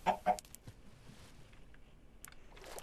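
A few short chicken clucks in Minecraft, close and fairly loud at the start, then quieter scattered game sounds over a faint background.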